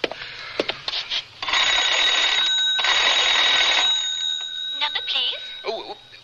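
A telephone in a radio drama gives a sustained, bright electric ring for a couple of seconds, framed by short bursts of voices and clicks before and after.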